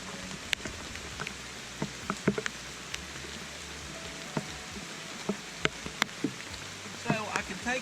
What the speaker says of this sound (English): That rain is just not letting up.